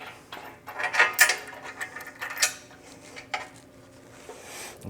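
Bolts with washers, lock washers and nuts being fitted and tightened during an installation, giving scattered metallic clinks, jingles and ratcheting clicks of varying loudness close by, with no one talking.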